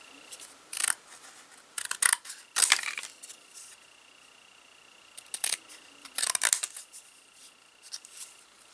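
Scissors snip through paper pieces for a miniature dollhouse file cabinet, sounding as short, crisp bursts of cuts in several clusters with pauses between, close and fairly quiet.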